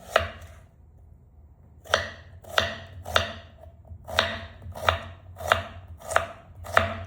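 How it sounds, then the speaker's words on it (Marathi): Onions chopped finely with a knife on a board for methi paneer bhurji, giving a steady series of about eight crisp, close knife strikes after a brief pause. "आता आपण कोथिंबीर कापून झालेला, कांदे कापून घेऊया।"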